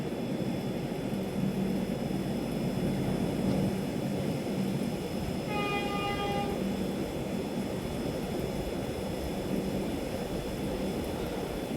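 A saffron-coloured Vande Bharat Express rolls by on the Konkan line with a steady, heavy rumble, and its horn sounds once in a short, clear blast of about a second partway through.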